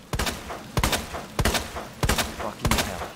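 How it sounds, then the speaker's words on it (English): Pistol gunshots from the video game Resident Evil 2: five sharp, fairly muted, high-pitched shots spaced roughly every half second to second, each with a short decay, heard alone. "I'm not a big fan of the gunshots, however, as they tend to sound pretty mild"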